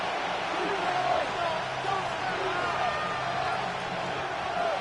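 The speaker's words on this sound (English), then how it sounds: "The noise very loud from the crowd." Stadium crowd roar from Madden 26 during a Browns vs Ravens game, a loud, steady wash of cheering that fills the whole stretch with no clear breaks.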